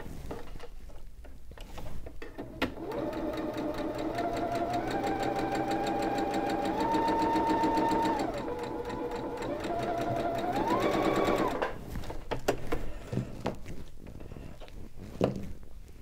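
Home sewing machine stitching lightweight fabric at a short stitch length of 2, a steady close whirring run of about ten seconds that rises in pitch midway and again near the end before stopping.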